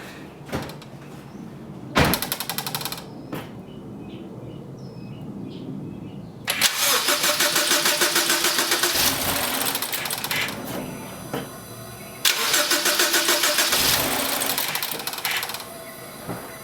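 A BMW N20/N26 four-cylinder car engine, freshly fitted with a new valve cover, cranks in three loud, close bursts of several seconds each, separated by quieter pauses, with no voices.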